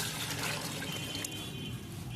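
Three litres of water poured into a container for mixing plant fertilizer, a steady soft splashing stream throughout, fairly quiet and close, with no talk.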